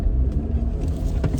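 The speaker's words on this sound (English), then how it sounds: "I don't really like this car." A car that handles poorly in snow driving on a snowy road in cold weather after a snowstorm, a steady low engine and road rumble heard up close inside the vehicle throughout, with no talking.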